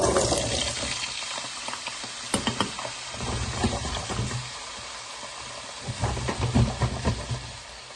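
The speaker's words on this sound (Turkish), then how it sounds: "Kızgın yağda patateslerimi öncelikle kızartıyorum." A loud, continuous sizzling hiss of potatoes frying in hot oil, with bursts of crackling and spitting that swell and fade, close by.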